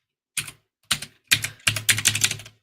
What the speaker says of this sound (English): My keyboard is loud.